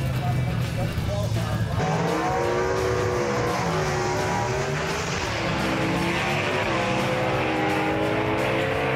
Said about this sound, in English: Bryson Bubb putting that horsepower to use right there as he moves to round number 2